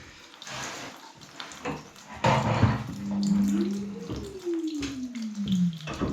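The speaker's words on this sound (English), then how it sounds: "if that valve's fully open, we're not getting much water out there anyway" Water runs from an opened radiator valve during an iron-pipe radiator swap, a steady close hiss and splash, joined midway by a squeaky tone that slides up and then down.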